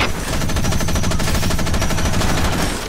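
Mech machine gun fire in the video game Front Mission Evolved, a loud, continuous rapid rattle of shots sustained for nearly three seconds without pause, no talk.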